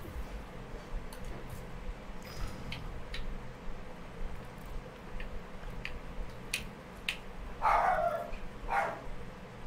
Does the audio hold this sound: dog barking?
yes